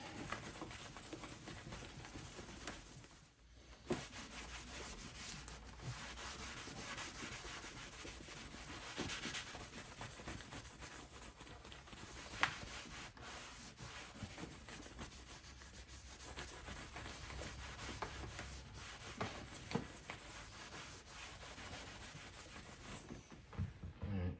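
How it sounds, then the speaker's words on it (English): Polish rubbed by hand into the surface of a 1947 Aireon jukebox: a faint, steady, close rubbing hiss with soft rhythmic strokes that runs without pause and without speech. "Rub it in the polish and then let it dry"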